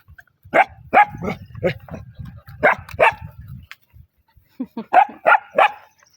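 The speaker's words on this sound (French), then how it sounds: "C'est un chien abandonné." Abandoned dog up for adoption barks in short, sharp bursts, several loud close barks in quick groups with whimpering yips between, a pause, then another cluster of barks.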